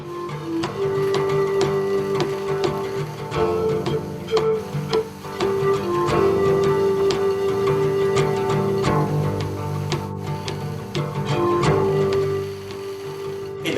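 A knitting machine making alpaca socks runs steadily, its dense mechanical ticking and whirring continuous and fairly loud, with a few brief dips as it cycles round.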